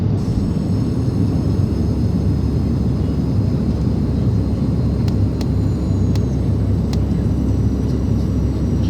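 Steady, loud low-frequency roar of airplane cabin noise during a flight to Paris, a constant engine and air rumble filling the whole stretch with a few faint clicks near the end.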